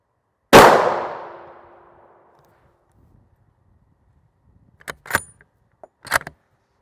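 A rifle round slams into an NIJ Level IV armor plate with one loud, sharp crack that rings off over about two seconds, followed later by a few quieter clanks and knocks.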